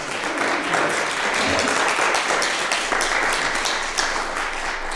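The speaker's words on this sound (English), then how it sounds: "let's give everybody a round of applause" Audience at a live event in Detroit gives a steady round of applause, dense clapping sustained evenly throughout at moderate loudness.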